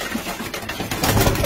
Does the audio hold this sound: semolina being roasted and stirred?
no